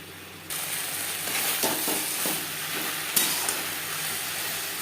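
Hilsa fish curry with eggplant, mustard and poppy seed cooks in a pan over a high-to-medium flame, starting with a sudden burst of sizzling that stays steady, with a few stirring scrapes and one sharp knock, no voices.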